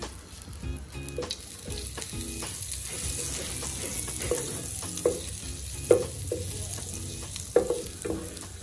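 Butter sizzles in oil in a frying pan with a steady crackling hiss, broken by a few sharper pops and scraping stirs. The sound is close and has no talking over it.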